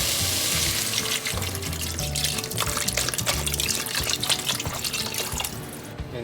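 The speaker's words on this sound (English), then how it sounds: "Okay, now I am going to add the water in." Water pouring from a tap into a cooking pot while making Japanese-style curry, a steady close splashing and trickling stream that runs throughout and sits loud and continuous, with no talk.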